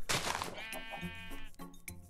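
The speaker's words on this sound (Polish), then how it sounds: "Ty, pa to owca zmienia kolory." A sheep in Minecraft gives one drawn-out, wavering bleat, close and clear, with a few soft game thumps around it.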